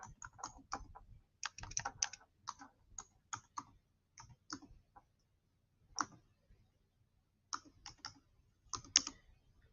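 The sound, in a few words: typing on a computer keyboard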